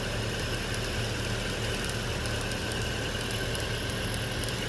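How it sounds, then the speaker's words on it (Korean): A car engine, recently checked for charging voltage, idles with a steady, even drone and no breaks, close and moderately loud, with no talk over it. "예, 시동은 그래도 걸어놓으세요"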